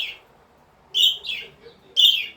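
Pet budgies chirp brightly in short, high, buzzy bursts separated by brief pauses, close by and cheerful, with no talking over them.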